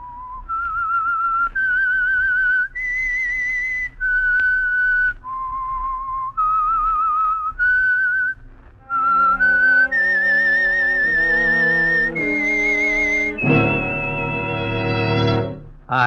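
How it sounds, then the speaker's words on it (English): The Whistler radio mystery's signature whistled tune: melodic, clear and close, moving through a series of sustained notes that rise and fall, ending on a fuller, sharper phrase. "That whistle is your signal for the Signal Oil Program"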